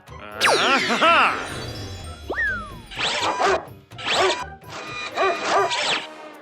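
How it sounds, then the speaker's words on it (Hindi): Cartoon sound effects for a robot dog: rising and falling synthetic whistles and swoops, then four short, evenly spaced bursts of buzzy electronic barking, loud and close with no voices. "एक रोबोट डॉगी।"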